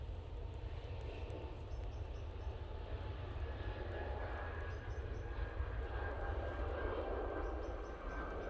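A jet airliner departing Manchester Airport on a flight to Paris, its broad steady engine roar sustained and fairly distant throughout, with a faint rising whine layered over the low rumble.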